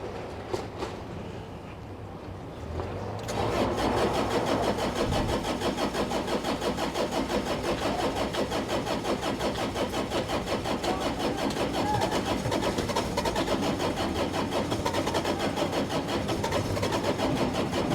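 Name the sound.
Bobcat E50 excavator diesel engine cranking, trying to start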